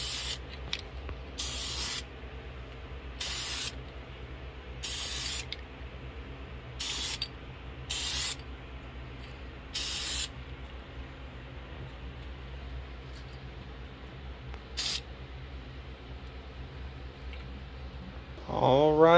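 Blue paint sprays onto a primed Formula 1 model car in short, close hissing bursts with quiet gaps between them; a brief louder sound comes at the very end.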